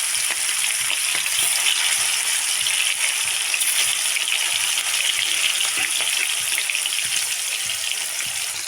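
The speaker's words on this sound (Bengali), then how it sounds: "তো আমি এখানে মাছগুলো দিয়ে দেবো। এক এক করে মাছগুলো দিয়ে দেবো।" Fish pieces fry in hot oil, producing a loud, dense, continuous sizzle and crackle that holds steady from start to finish, close to the pan and with no voices.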